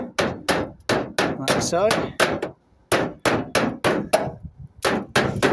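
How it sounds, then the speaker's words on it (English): A hammer knocks out the edges of a rusted valley gutter on a tiled roof, striking metal in quick, loud, close blows with a short pause midway, while someone briefly speaks. "I'm just going to knock the outsides out a bit"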